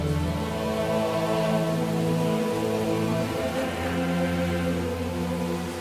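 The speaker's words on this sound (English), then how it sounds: "Despite weeks of torrential rain" Heavy torrential rain pours steadily and loudly throughout, a continuous dense wash of drumming with a low tonal musical bed beneath it.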